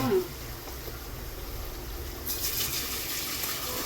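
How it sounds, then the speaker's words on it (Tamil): Mutton gravy is poured in a home kitchen, a soft, wet splashing and gushing that thickens partway through. Faint background noise runs beneath it. "கொட்டுங்க கொட்டுங்க, கிரேவி கொட்டுங்க நல்லா."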